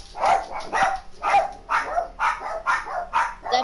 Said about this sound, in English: That sounds like my second dog when they just woke up. Is that a chihuahua?